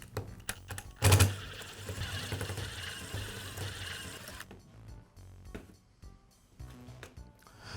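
Hand tools click, scrape and clatter in quick irregular bursts while the cover is removed from an old Echo leaf blower muffler, loud at first and then quieter, close up with no talking.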